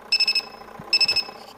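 Akari AWM-135SK twin-tub washing machine smart alarm sounding two bursts of rapid high-pitched electronic beeps, four quick beeps each, separated by a short pause, clear and close with light background noise.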